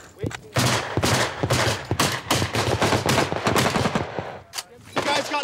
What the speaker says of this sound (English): Oh, that's machine gun. That's machine gun.